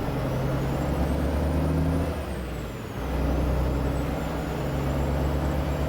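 A heavily loaded truck in American Truck Simulator, about 80,000 pounds, drives at speed with a steady low diesel drone. The engine note dips briefly midway, then settles back into a continuous rumble with no talk.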